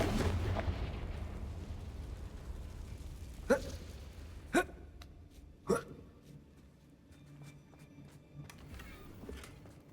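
Bombarda and Confringo spells explode in Hogwarts Legacy: three sharp blasts about a second apart, each with a brief rumbling tail, over a low ambient game background.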